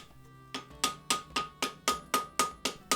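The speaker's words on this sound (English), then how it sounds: "then slowly and with light blows bend the tip over" Light hammer blows bending over the tip of a forge-welded Damascus steel blade for a herringbone-pattern scouting knife: eight crisp, ringing metallic strikes in an even, steady rhythm, close and alone.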